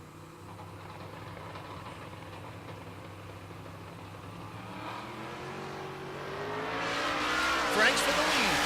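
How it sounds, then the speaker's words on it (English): Drag racing cars, among them a Camaro, at Pueblo Motorsports Park during Rocky Mountain Race Week, with a low idling rumble in the background that builds into a rising engine roar near the end. An announcer talks over it. "Right lane is Nick Lawson, the Camaro"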